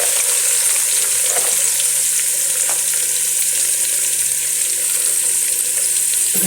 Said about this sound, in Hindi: गाजर को 2 मिनट इसमें फ्राई करेंगे ताकि ये ज़रा नरम हो जाए।